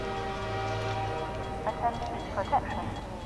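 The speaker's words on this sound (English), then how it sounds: "Now look. See that train coming?" A train approaches in the video game Half-Life 2 with a low rumble and long steady horn tones, and clacking sounds join in toward the end.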